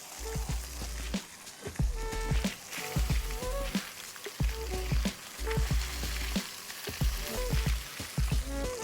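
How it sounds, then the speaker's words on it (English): A barramundi fillet pan-frying skin-side down in oil, sizzling and crackling steadily with dense spitting pops throughout, close and fairly loud. "So whenever I pan fry a fillet of fish, I like the skin to be a little bit crispier"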